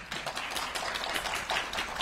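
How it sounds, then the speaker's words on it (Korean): Audience applause at a Korean drama press conference greets an actor coming on stage, a dense, steady wash of many hands clapping at close range with no voices over it. "뜨거운 박수가 터져 나오네요"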